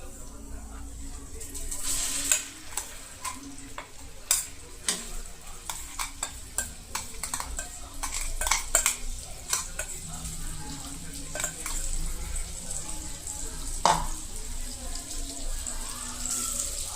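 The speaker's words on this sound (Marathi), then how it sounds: "त्याला असं परतून घ्यायचंय." Cumin tempering is stir-fried on low heat, a soft, continuous sizzle broken by frequent sharp scrapes and clinks of a spatula against the pan, with someone speaking faintly at times.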